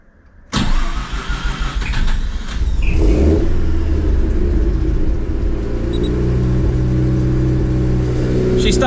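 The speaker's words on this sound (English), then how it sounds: "I'm just going to start it up and see what it does." A Mazda RX8 rotary engine cranks and catches about half a second in, then settles into a steady, close, loud idle that runs to the end with no talking.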